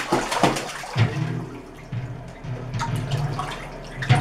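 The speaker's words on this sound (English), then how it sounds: "Splash even harder." A small child splashes water in a bathtub, with repeated bursts of sloshing and dripping spread across the moment, fairly close, in a quiet, echoing bathroom with no talking.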